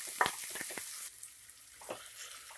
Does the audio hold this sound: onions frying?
yes